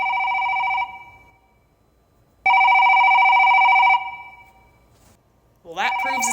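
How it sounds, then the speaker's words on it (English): An office work phone rings in two long, loud electronic bursts separated by a pause, followed by a brief voice at the very end. "Hey, Lucifer, I think the work phone might be busted."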